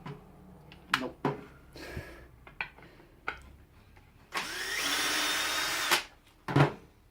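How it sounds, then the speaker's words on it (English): A power drill bores holes while building a wooden armor stand, with several short bursts of handling and clatter and then a single sustained whirring drill run of about two seconds, fairly quiet overall. "I'm going to have to drill holes."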